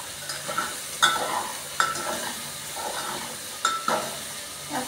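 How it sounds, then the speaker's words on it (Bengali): A spoon stirs a papaya, potato and soybean curry in a pot over a soft, steady sizzle. Several distinct scrapes and clinks of the spoon against the metal come at irregular intervals, close by with no speech. "আমি এটা একসাথে মেশাবার জন্য একটু নাড়াচাড়া করে নিচ্ছি"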